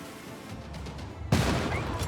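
Gunfire erupts in Civilization VI as a unit fires on a nuclear submarine, with a sharp loud onset partway through followed by a sustained rumbling barrage over game ambience.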